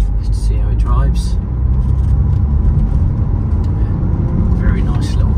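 BMW X1 2.0-litre sDrive20d diesel with 56,400 miles driving up a road, a steady loud engine and road rumble throughout with brief voices over it.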